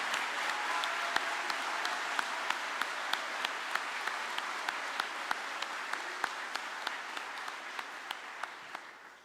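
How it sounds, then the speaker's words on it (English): Broad, steady applause fills a high school commencement venue as a large crowd claps for graduates entering military service, with distinct individual claps punctuating the wash before it fades at the close. "Please honor their service with a round of applause."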